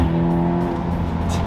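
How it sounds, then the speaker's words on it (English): Audi S3 engine idling steadily just after a cold start, a close, constant low hum with steady tonal drone throughout, no talking. "cold start in the Audi S3"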